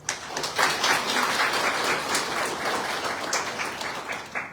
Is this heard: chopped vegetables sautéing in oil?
no